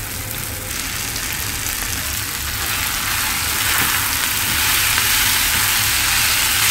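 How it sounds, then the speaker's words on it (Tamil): Long beans sautéing with softened tomato in a hot pan, giving off a steady, broad sizzle that grows slightly louder as the vegetables settle in, with no talking. "இப்போ காய் சேர்த்து வதக்கலாம்."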